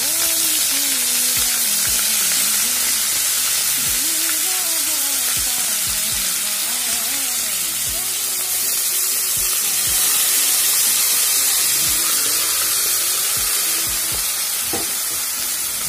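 Cabbage fries steadily in a hot wok, a loud continuous sizzle and hiss with occasional stirring scrapes throughout, close and without talk.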